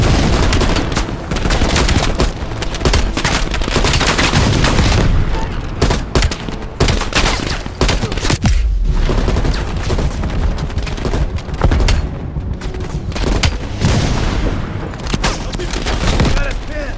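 Dense video-game battle from Black Ops Cold War: continuous loud gunfire and rifle bursts with an RPG blast and booming explosions, relentless and close throughout, with no break in the din.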